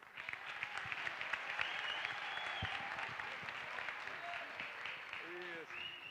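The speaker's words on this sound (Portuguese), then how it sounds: "aqui eu peço uma salva de palmas também" Audience applause fills a political candidacy launch evening, a steady wash of many hands clapping throughout with a few voices and whistles rising over it.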